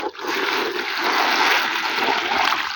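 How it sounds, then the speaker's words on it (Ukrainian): A bucket of water is poured out onto rose bushes in a garden, making a steady, full rushing splash that lasts throughout with no talking. "По відро води під кожну вилю."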